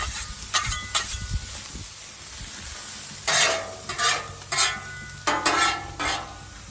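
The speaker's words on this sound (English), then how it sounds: "The vegetables will saute down and be a lot smaller than what you started with" Vegetables sautéing on a Blackstone griddle for an omelette, a steady sizzle punctuated by repeated bursts of louder hissing and scraping as a spatula stirs and spreads them flat.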